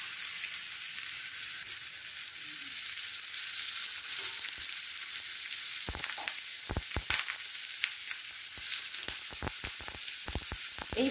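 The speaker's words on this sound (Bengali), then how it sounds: "এইভাবে চাটুর মধ্যে সমস্ত কুমড়োগুলোকে দিয়ে দিয়েছি।" Pumpkin slices brushed with mustard oil sizzle steadily on a flat griddle pan, a soft continuous frying hiss with scattered sharp pops and clicks of handling toward the end, no talking.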